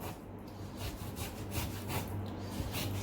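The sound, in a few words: knife cutting through shark fish near the bone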